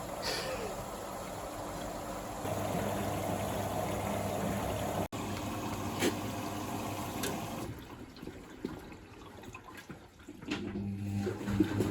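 Water rushes and trickles steadily into a washing machine, a continuous splashing fill with a low mechanical hum, fairly close, shifting and thinning after a while.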